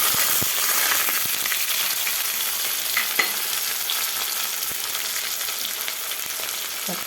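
Small shallots fry in hot oil for a Kerala home-style curry, a steady close sizzle broken by occasional scrapes and clicks of stirring, with no talk.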